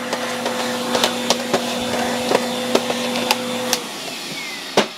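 A vacuum cleaner runs steadily at close range while Roomba robot vacuum parts are cleaned out, with a constant motor hum and repeated sharp clicks and taps as the nozzle knocks against the plastic pieces.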